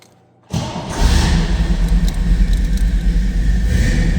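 A 1962 Chevrolet Corvette convertible engine cold-starting: a quiet moment, a sudden crank and catch, then a loud, low rumbling idle with a steady pulsing throb close by.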